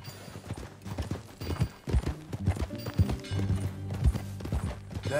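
Horse hooves clip-clopping in a steady, quick rhythm in the video game Red Dead Redemption 2, over a busy background of music and ambient noise, moderately loud.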